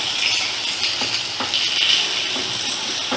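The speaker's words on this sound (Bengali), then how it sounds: "স্লাইস করা পেঁয়াজটা দিয়ে দিলাম। দিয়ে মিডিয়াম ফ্লেমে রেখেই আমি একটু লাল লাল করে ভেজে নেব।" Sliced onion frying in oil over a medium flame, a steady bright sizzle with faint stirring scrapes, close and continuous.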